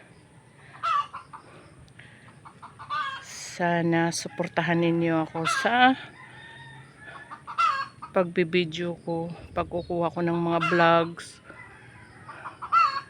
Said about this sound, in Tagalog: Putak ng putak kasi siguro ko mangingitlog na siya.